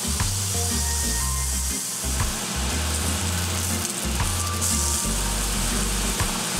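Avocado halves brushed with avocado oil and lemon juice sizzle steadily on a grill, a continuous close crackle with occasional low knocks and clatter.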